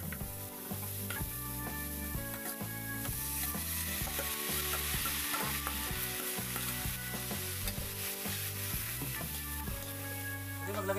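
Bamboo shoots sautéed with dried shrimp in a pan, a steady sizzle and stirring scrape running continuously over a layer of background music, with no talking.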